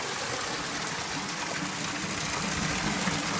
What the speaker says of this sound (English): this little stream is quite loud